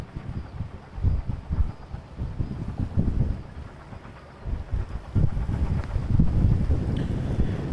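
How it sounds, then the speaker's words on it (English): Wind buffets the microphone in uneven low rumbling gusts at Vancouver International Airport, swelling and easing for several seconds with no voices. "Getting really windy up here."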